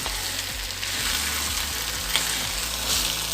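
Green masala chicken fry with gravy being stirred in a hot pan, a steady bright sizzle with soft scraping strokes and occasional low clunks of the spoon against the pan, close up and with no voices.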